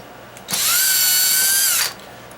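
A power tool whirs for just over a second while backing out a cover screw on a 1986 Honda 200SX, a high, steady buzz that starts and stops abruptly, close and alone.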